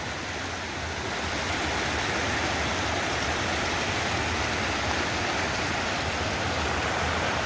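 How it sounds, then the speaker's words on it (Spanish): A swollen river in rainy Galicia pours past in a loud, unbroken rush of water, steady and near, with no talking. "Da gusto el ruido, el sonido del agua."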